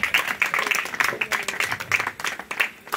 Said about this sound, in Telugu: సంతోషంగా వాళ్ళు గట్టిగా క్లాప్స్ కొట్టాలి